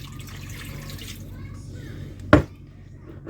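Two and a half cups of water poured into a large cooking pot for a Hungarian pepper sauce, a close, steady trickle ending in one sharp splash or clunk before quiet.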